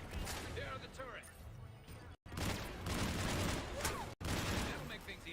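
Turrets open fire in a Mass Effect 3 battle, sustained loud bursts of rapid gunfire and explosions over about five seconds, with a voice speaking through the chaos.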